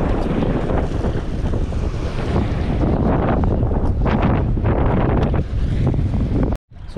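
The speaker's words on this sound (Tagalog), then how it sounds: "grabe lakas ng hangin. Lakas ng hangin guys" Strong wind roars and buffets the microphone continuously for several seconds, loud and unbroken, before cutting out briefly near the end.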